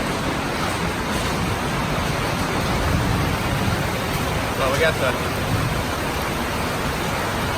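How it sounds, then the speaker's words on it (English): Small hail falling on parked trucks, with a truck bed left out in the weather, making a steady dense hiss and patter throughout, with someone talking briefly over it. "it's freaking hailing."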